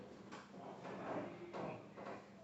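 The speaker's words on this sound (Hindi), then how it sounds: "दरवाजा बंद कर दे, कड़ी बंद।" A door is shut in a room during a lecture, heard as a few soft, scraping knocks and thuds spread across a couple of seconds, quiet and close, with no speech over it.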